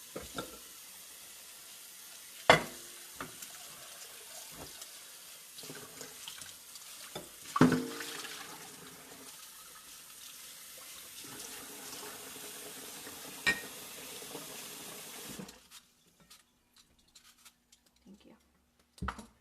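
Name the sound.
rinsing a bowl under running tap water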